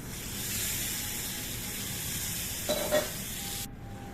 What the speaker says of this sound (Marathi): ह्याच्यामध्ये थोडं पाणी ओतूया आपण